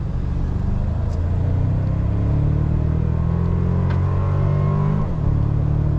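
A 2024 Toyota Tacoma TRD Off-Road with the I-Force Max hybrid powertrain accelerates, its low engine rumble and rising drone heard from inside the cab, loud and continuous with a brief dip around a gear change.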